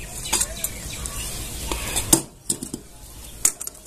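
A spoon scrapes and clinks against a pot as sugar syrup is stirred into a besan modak mixture on the stove, with sharp metallic taps between softer stirring sounds and a faint background hiss.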